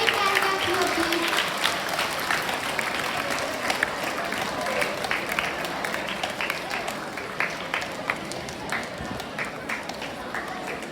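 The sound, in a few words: audience applause for a speaker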